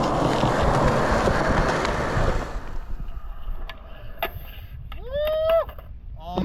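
A skateboard rolls loudly across pavement, its wheels rumbling, then the noise drops off for an ollie attempt up a curb, followed by sharp board clacks and a rising squeaky whistle-like tone.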